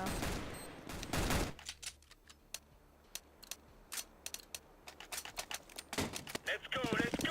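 Heavy weapon gunfire in Counter-Strike: Global Offensive, loud bursts of rapid shots followed by scattered single and double cracks, with a second dense volley near the end.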